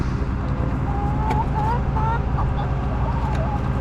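Backyard chickens cluck in short, scattered calls as they are let out of their coop in late morning, over a steady low rumble of outdoor background noise.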